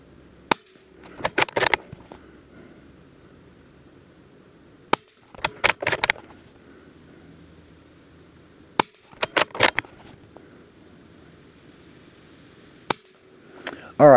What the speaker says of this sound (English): that's 5 shots at 50 yards